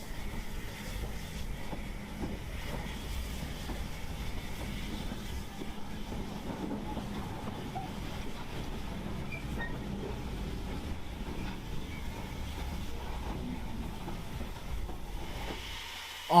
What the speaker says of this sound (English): I was able to get these shots of the loco pulling into Greenbridge and handing back the token